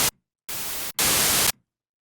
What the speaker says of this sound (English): So our white noise now has a very sharp attack.